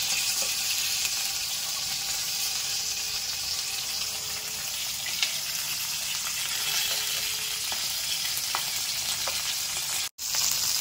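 Stuffed capsicum roasts in a pan with a steady, loud, even sizzle that fills the whole stretch and breaks off briefly once near the end.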